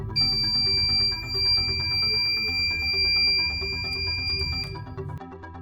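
An electronic alarm kit circuit, triggered by a magnet, sounds its buzzer in a sustained, piercing electronic tone that stays steady and loud for several seconds, then cuts off near the end.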